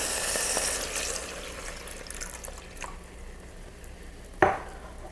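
Whole milk is stirred into pumpkin halwa in a pan, a soft wet swishing and faint bubbling that fades down, ending in one sharp close knock of the spoon.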